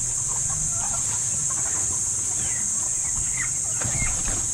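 Hens on a farm clucking, several soft calls scattered across a constant rural background hum, close and moderately loud, no talking.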